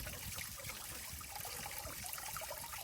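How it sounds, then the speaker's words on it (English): Water trickles out of a pump outlet in a soft, continuous, faint splashing dribble, steady and unbroken. "See, we got water coming out here"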